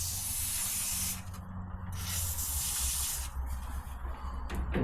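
WD-40 is sprayed onto the gearshift linkage of a 1952 Chevy truck, heard as close, soft hissing bursts broken by short gaps.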